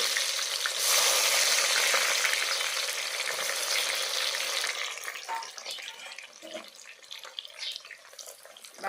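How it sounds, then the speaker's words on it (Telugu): Onions frying in hot oil for Bocha fish curry, a loud dense sizzle that settles down after a few seconds into softer crackling and scattered pops, with no voices. "బాగా ఈ ఎర్రగడ్డల్ని ఎర్రదోరలుగా అయ్యేంత వరకు వేయించుకున్నాం."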